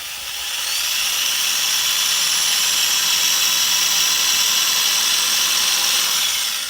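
Power drill boring a hole into a dragon fruit cactus rootstock for grafting, a steady high-pitched whine running loud and continuous for several seconds with no talk.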